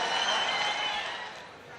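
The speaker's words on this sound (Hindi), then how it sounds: "जोरदार तालियों के बीच इस्तकबाल कीजिए दोस्तों।" Brief applause from a crowd at a 2020 mushaira in Aurangabad, a soft, even wash of clapping that fades slightly within under two seconds.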